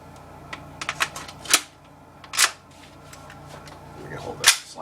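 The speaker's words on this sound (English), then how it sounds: "It's almost going to feel like you're breaking it, and then you're going to hear that click" KWA Magpul FMG9 airsoft gas blowback machine pistol fire selector gives several sharp, close mechanical clicks and snaps at irregular intervals over a faint background.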